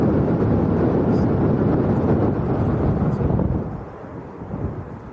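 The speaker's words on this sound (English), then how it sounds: "the wind's coming through. I don't know if you can hear it on the mic." Heavy wind buffeting a microphone at Leeds Bradford Airport, a loud low rumble that roars steadily and then eases off into softer gusts.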